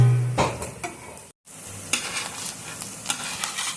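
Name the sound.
paneer pieces roasting in oil on a tawa, flipped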